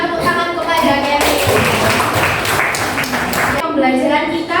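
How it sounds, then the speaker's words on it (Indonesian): A class in an Indonesian vocational high school claps for a student, a burst of dense applause lasting a few seconds in the middle, with a teacher's voice before and after. "Berikan tepuk tangan kepada Kevin."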